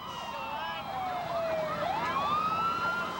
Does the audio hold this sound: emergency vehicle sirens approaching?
yes